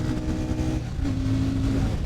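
A Royal Enfield Shotgun 650 engine drones steadily at about 90 in third gear, with a low rumbling hum and a brief shift in pitch partway through.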